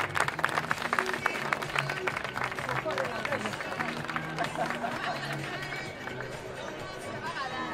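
Crowd applause for a medal winner at a charity race against cancer in Vigo, continuous clapping and cheering with a voice over a loudspeaker and background chatter.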